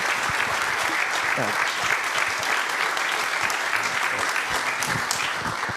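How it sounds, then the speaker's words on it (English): Sustained, dense applause from a large audience at an evening author talk, steady and continuous throughout, with faint voices mixed in. "can we give one more round of applause for Rick Atkinson and Scott LaMar?"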